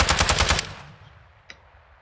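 Automatic gunfire from Warzone 2 on Ashika Island: a rapid, loud burst of about eight evenly spaced shots lasting under a second, then a decaying tail and one fainter single report a moment later.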